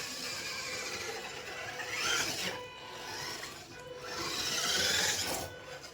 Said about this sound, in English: We can hear the pure mesh of the tiny gears, the low whine of the electric motor, and the subtle, and also hard slide of the tire treads.